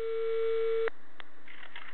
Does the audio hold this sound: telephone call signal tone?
yes